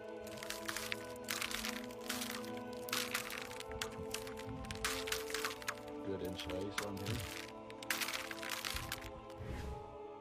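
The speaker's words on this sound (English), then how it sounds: "When you see such perfect, transparent ice, it is a special pleasure to step on it and hear the crunch." Sharp crunches and cracks of footsteps breaking clear, transparent ice repeat in an uneven rhythm, close and crisp, with a voice speaking underneath.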